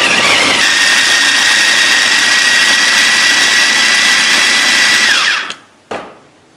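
Electric food chopper grinding spice ingredients, a loud steady whirring motor that runs continuously and then cuts out abruptly, followed by a brief final pulse.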